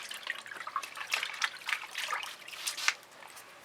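Running water from a sink used for a quick rinse after fluid art painting, a soft trickling splash with small uneven spatters, fairly close and continuous for a few seconds.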